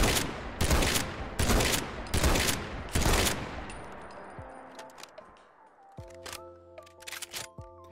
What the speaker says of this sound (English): Let's go ahead and fire this thing and check out the reload as well.